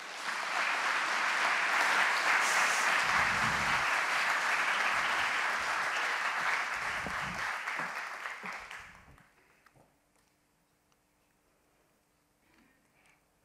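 An audience at an evening public science lecture applauds to welcome a speaker onto the stage, sustained dense clapping for about eight seconds before fading out into near silence.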